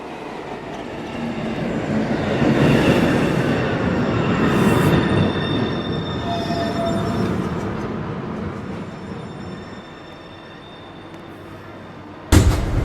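A New York City subway train rumbles through Lincoln Center station, a loud rolling roar with wheel squeal and a swell that fades, followed by a sharp clunk at the end.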